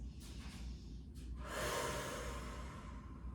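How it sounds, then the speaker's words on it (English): Slow, deep breaths during a Pilates child's pose stretch: a soft intake followed by a longer, louder breathy exhale, close and fairly quiet, with no talking. "Take a couple of breaths."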